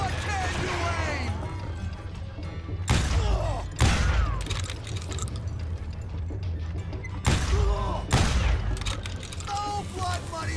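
Gunshots in the Western shooter Call of Juarez ring out as several sharp, loud blasts spaced a few seconds apart, with a voice talking over the game sounds.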